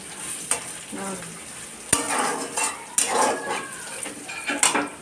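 A utensil stirs fish curry in a pan, scraping and clacking against the metal in irregular strokes with several sharp knocks, over a light sizzle, close and moderately loud.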